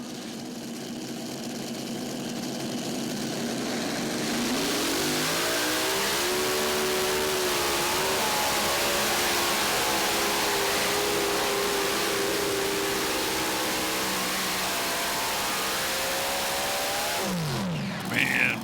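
A modified pulling tractor's powerful engine at a national tractor pulling championship revs up and holds a loud, rising roar up close for a long stretch, then cuts off abruptly near the end.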